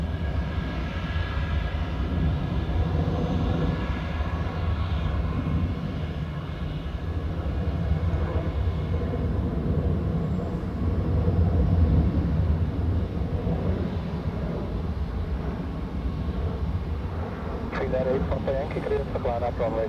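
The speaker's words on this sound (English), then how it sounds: "the next departure on runway 28 will be this Finnair A321 off to Helsinki" A Finnair Airbus A321 departing from runway 28 at Zurich Airport makes a broad, steady jet engine roar from a moderate distance that holds at a constant level throughout, with a faint voice speaking beneath it.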